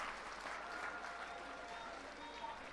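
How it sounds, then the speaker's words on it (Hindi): Crowd applauding at an Arvind Kejriwal political rally at Jantar Mantar, a distant, fairly quiet wash of clapping that holds steady for the whole stretch. "एक बार जोरदार तालियों के साथ जज साहब का शुक्रिया अदा कर दीजिए।"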